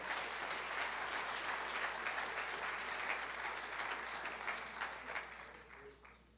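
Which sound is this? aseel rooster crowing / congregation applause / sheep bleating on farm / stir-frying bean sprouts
congregation applause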